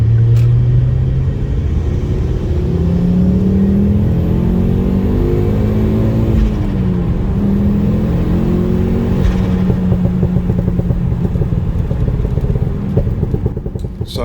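Ford Focus ST 225 with a Dream Science ModX remap, its engine revving and rising and falling through the gears on a drive, a loud, continuous throaty rumble throughout with no talk.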